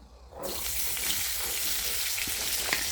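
Sliced onions deep-frying in a pan of oil, a loud sizzle that bursts in abruptly and crackles steadily, with a few sharper pops.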